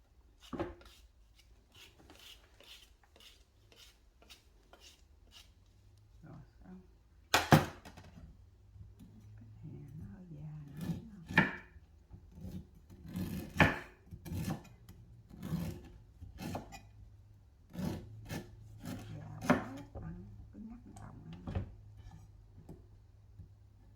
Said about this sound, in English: another reason to chop it thin is because you want to cook it quickly